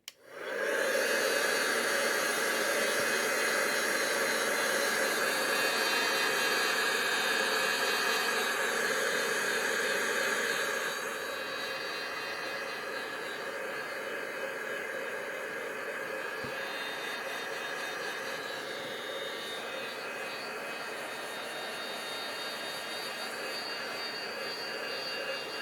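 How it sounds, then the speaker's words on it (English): A heat tool blasts hot air in a craft printing setting, a loud, steady roaring hiss that runs continuously, dropping slightly in level partway through but never stopping. "just in between times I'm going to give it a blast with the heat tool"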